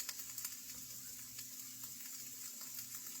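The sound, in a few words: ground turkey frying with onions in a pan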